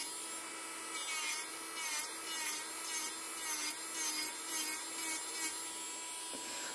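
An electric nail sander buffs the surface of a fingernail, producing a close, high, steady whine with a rhythmic rasping texture as the bit passes back and forth, with no talking.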